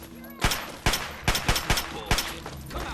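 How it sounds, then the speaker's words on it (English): Gunfire in the video game Fallout, about six sharp shots in an uneven volley, loud and echoing, over a low ambient game backdrop. "there's a guy shooting."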